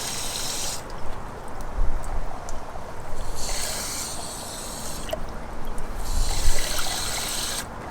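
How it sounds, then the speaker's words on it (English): Water is poured into the radiator of a Chevy C/K1500 pickup during a coolant flush, coming in uneven bursts of splashing and trickling with quieter pauses between. "Now we're gonna go ahead and add water."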